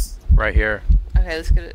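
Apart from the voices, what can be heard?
heartbeat sound in Phasmophobia video game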